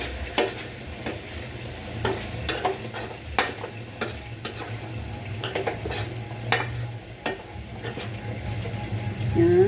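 Chopsuey vegetables stirred in a frying pan, with repeated sharp scrapes and clinks of a utensil against the metal over a steady low sizzle, fairly close and with no talking.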